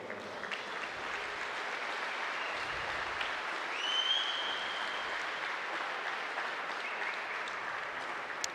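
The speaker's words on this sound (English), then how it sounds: "Big round of applause." A crowd applauds at a pro archery shoot-down event in Foley, Alabama, steady clapping sustained for several seconds, moderately distant, with faint background chatter.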